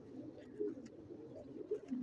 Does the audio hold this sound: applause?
no